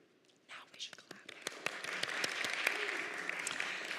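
Scattered claps from a congregation at its annual meeting quickly swell into steady applause under soft murmuring voices, with individual sharp claps still standing out.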